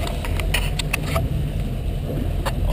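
A Volvo Penta V8-270-C-A OceanX boat engine idles at low RPM with a steady low hum, while a few short beeping tones sound on top of it.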